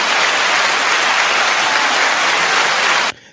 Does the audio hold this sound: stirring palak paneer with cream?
no